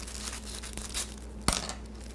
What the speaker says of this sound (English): Just get your scissors in the middle